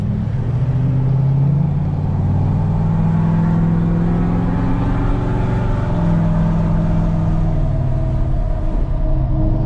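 A deleted and tuned 6.7 Powerstroke diesel truck accelerates, a loud, steady low rumble with engine tones rising and falling as it pulls, heard from inside the cab.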